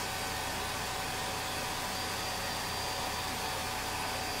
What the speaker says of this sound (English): put this on low and blast it with some heat